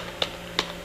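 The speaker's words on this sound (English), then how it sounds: "We can just do that by typing" Two separate key presses on a computer keyboard, sharp clicks spaced about a third of a second apart over a quiet background hum.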